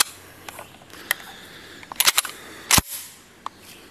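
A 20 gauge slug being loaded into a gun: a series of sharp metallic clicks and clacks, close and loud, with a cluster of handling snaps near the middle over quiet background.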